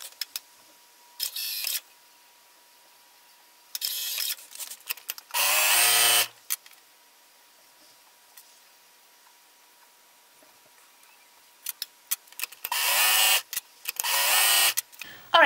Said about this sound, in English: So let me really quickly sew these up.